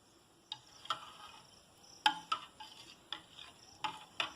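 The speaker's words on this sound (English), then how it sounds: "Then you stir it up, just a little stir" Light stirring of a Brukina milk mixture in a bowl: sparse, quiet clinks and taps of a utensil against the bowl, spaced irregularly in a still room.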